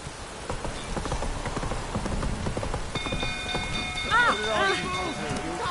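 Roach the horse gallops in The Witcher video game, quick hoofbeats clip-clopping close by while rain patters, with shouting voices and sweeping musical tones rising over the hooves.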